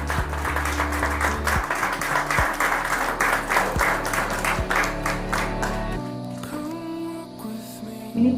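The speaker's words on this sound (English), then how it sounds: "Come on, a big round of applause." An audience applauds an author at a book unveiling, brisk many-handed clapping that runs strongly for about six seconds, then cuts off, leaving a quieter room with a few sounds.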